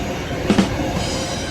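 A train passes along a railway beside a walking person, a steady broadband rumble with a brief louder burst in the middle and no speech over it.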